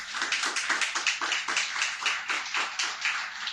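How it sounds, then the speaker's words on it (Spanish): Congregation clapping during a church service, a steady run of hand claps with a fairly even rhythm, moderately loud and close, with no voices over it. "Den un aplauso a Yeshua HaMashiach."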